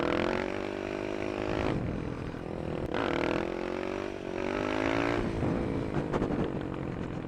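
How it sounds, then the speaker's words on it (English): A supermoto motorcycle with the snorkels removed from its airbox revs loudly and close, its engine note climbing and dropping in several surging waves with a raspy edge. "I pulled the snorkels out of the airbox, which makes it a good deal louder"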